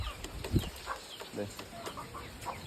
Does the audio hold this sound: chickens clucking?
yes